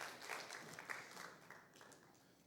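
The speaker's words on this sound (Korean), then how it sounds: "예, 우리 한번 세 분께 박수 한번 보내드릴게요." A church congregation at a Sunday youth worship service applauds three people, giving a soft, steady wash of clapping that holds evenly for a couple of seconds, fairly distant and quiet.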